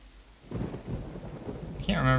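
Roller Coaster Tycoon 3 thunderstorm: rain hiss and a low thunder roll building after a quiet start, with a brighter burst of sound in the final moments.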